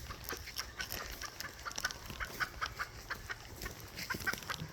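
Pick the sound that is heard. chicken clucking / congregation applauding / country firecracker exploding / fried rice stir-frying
chicken clucking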